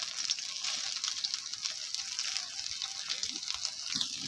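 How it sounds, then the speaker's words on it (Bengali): Soybean chunks fry in hot oil with a steady, bright sizzling hiss that continues without pause, while a voice is faintly present underneath. "তো তেলটা গরম হয়ে গেছে, এবার আমি সোয়াবিনগুলো দিয়ে দিচ্ছি।"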